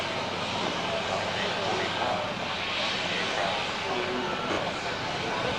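A Spitfire's piston engine at an air show, heard as a steady, broad, continuous drone that stays at a fairly constant loudness throughout, with a crowd or commentary present under it.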